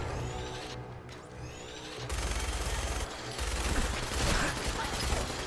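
Gunfire rattles in the Fallout 4 video game, rapid repeated shots in a few bursts with short pauses between them, moderately loud against a busy game background.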